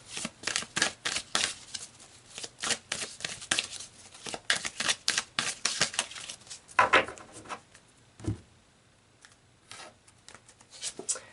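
Tarot cards are shuffled and pulled close up, giving rapid papery riffles and flicks in quick uneven bursts, then a few soft slaps and slides as cards are laid down.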